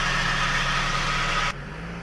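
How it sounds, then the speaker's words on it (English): A steady pickup truck engine runs with broad noise for about a second and a half while driving, then drops abruptly to a quieter idle. "I'm going to drive my truck a little closer."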